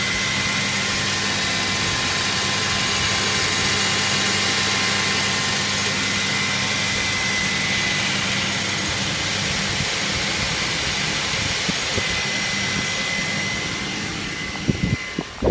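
A 2002 Buick Century's 3.1 liter V6 runs steadily at idle during an engine test, a continuous close hum with a whirring tone, holding even until small clicks and knocks near the end.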